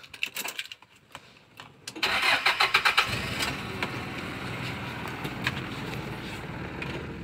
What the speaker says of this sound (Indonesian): kita dengerin mesinnya